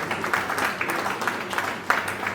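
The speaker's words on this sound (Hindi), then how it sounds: "तो जोरदार तालियां हमारी प्रिय श्रीमती इंदिरा मोहन जी के लिए" Audience applause at an annual Hindi literary awards ceremony: a continuous crackling wash of many hands clapping, fairly loud and even, with a few sharper individual claps standing out.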